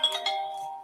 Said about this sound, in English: I forgot to turn my phone off.